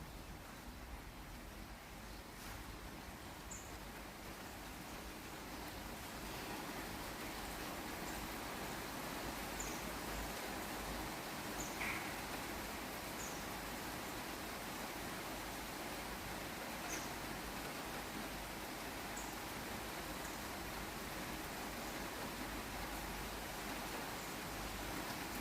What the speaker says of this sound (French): Vous laissez faire la pluie et vous laissez faire la pluie.